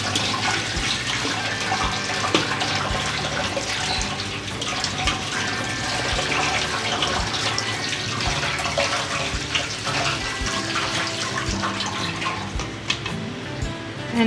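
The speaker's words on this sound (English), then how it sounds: "Now we will rinse our potatoes thoroughly" Tap water runs steadily over potatoes being rinsed in a kitchen, a continuous close splashing stream with no talk.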